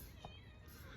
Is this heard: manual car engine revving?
no